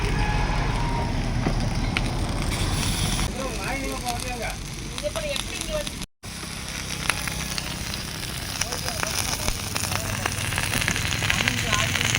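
Fish frying in plenty of pure oil at a roadside eatery near Mettur Dam, a steady broadband sizzle and crackle running throughout with kitchen bustle and people talking nearby.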